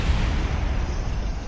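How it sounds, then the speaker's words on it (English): A rocket explodes in Kerbal Space Program, a brief, loud, rumbling blast with deep low-end boom that decays over about a second and a half, with no talking. "Explosion, explosion,"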